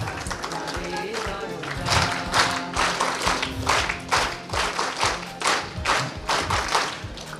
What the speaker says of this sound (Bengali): তোমরা খুব সুন্দরভাবে তালিটা দিয়েছো